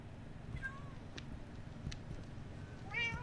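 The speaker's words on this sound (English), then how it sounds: "Just got a bunch of cats." Cats meowing in the Minecraft video game, two faint, short meows, one early and one at the very end, over low background hum.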